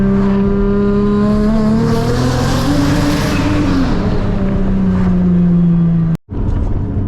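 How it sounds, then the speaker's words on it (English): Turbocharged Nissan 350Z engine pulling hard while driving, a loud continuous drone rising and falling in pitch with turbo whine, then a brief cut-out near the end before the engine picks back up. "Turbo's just sounding nasty."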